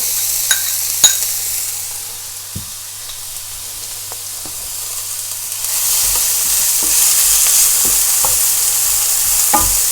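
Freshly blended curry chili paste sizzles steadily in a hot pan while a utensil scrapes and taps now and then; the frying hiss swells louder partway through.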